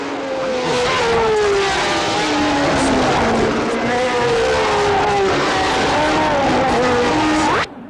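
Grand Prix race cars roar along the track, their engines loud and close. Pitch sweeps rise and fall as cars pass through a sustained, dense scream before the sound cuts off abruptly near the end.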